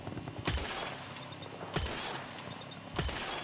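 Gunfire in the video game Battlefield: three loud single shots at roughly even intervals, each a sharp broadband crack with a short tail, over a steady low background of game ambience.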